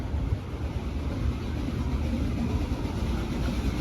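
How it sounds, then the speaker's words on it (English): A steady low rumble and rolling clatter carries on throughout as a train passes at some distance at Silver Dollar City theme park, with no one talking. "Could hear the train just coming rolling on by here."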